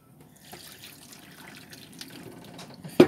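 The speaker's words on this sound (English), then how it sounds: "so I've just got to drain this water off." Water from freshly boiled potatoes being drained off in a kitchen, a soft continuous pouring and trickling into a sink, fairly faint and close, ending with a sharp clatter.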